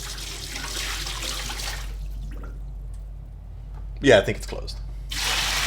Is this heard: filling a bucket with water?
yes